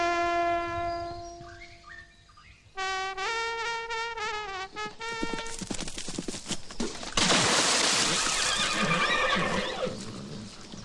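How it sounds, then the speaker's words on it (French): A horse neighs in a long, loud, wavering whinny, followed by whistling tones and a burst of noisy clatter as the sound grows rougher and louder toward the end. "Un cheval?"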